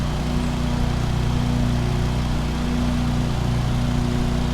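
In Lawn Mowing Simulator, a lawn mower trims around the edges of a well-kept British lawn, its engine droning in a loud, steady hum that holds the same even tone the whole time, with no voices.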